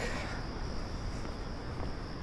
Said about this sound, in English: I hear the crickets of Gramercy Park.